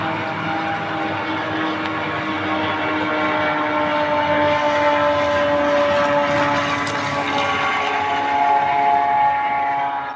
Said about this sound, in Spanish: ¿Has visto un dron?